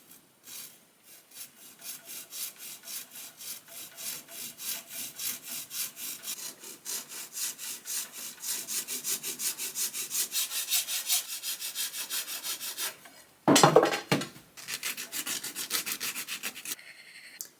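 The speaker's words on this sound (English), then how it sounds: "And I'll just saw off the end." A hand saw cuts through the end of a wooden dowel set in a loom weaving, with steady back-and-forth rasping strokes that grow denser, then a brief sharp break and a few final strokes, close and alone.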